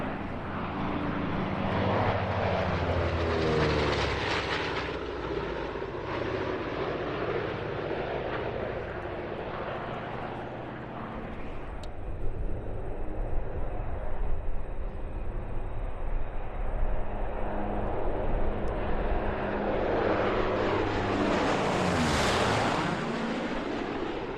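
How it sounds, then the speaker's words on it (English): The four radial engines of the B-29 Superfortress Doc, a vintage bomber at an air show, roar loudly as it passes overhead, swelling and fading in a long sweeping drone with a strong Doppler sweep near the end. "the largest and most impressive vintage bomber at the show was, without doubt, B-29 Superfortress Doc"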